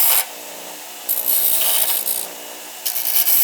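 A brand-new grinder wheel bites into metal while shaping a lock pick, giving a harsh, bright grinding hiss that comes in three separate passes with quieter motor whine between them.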